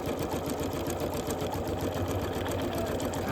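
A sewing machine quilting a table runner, running steadily with a fast, even mechanical whirr and rapid needle ticking, close and continuous throughout.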